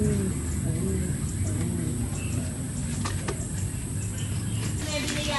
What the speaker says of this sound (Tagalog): yung umuwi nating ibon na si Miss Tolome.